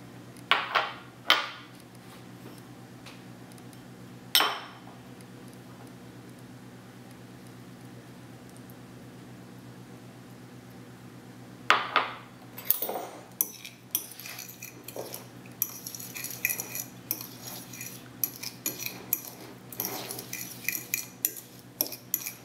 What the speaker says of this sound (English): take your sugar, your salt, and your ghee,